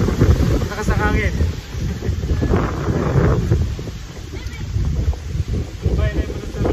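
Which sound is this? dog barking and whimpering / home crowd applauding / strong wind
strong wind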